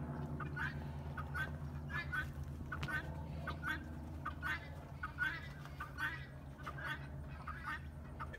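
Coturnix quail in a DIY pen give repeated short chirping calls in an uneven rhythm, close and clear over a low steady hum.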